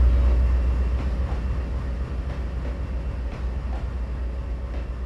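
Locomotives running in the Trainz rail simulator game, a loud, steady low engine rumble and rolling rail noise that holds without break, heavier at the start.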